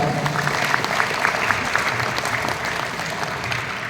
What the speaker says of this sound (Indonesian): Kita berikan aplaus pada Bu Jika